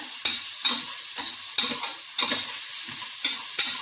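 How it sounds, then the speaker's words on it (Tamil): Chopped tomatoes and a green chili fry in hot oil for mutton biryani, giving a steady sizzle broken by repeated scraping strokes of a spoon stirring the pan. "தக்காளியும் ஒரே ஒரு பச்சை மிளகாய் வெட்டி வச்சிருந்த பச்சை மிளகாயும் போட போகிறோம்."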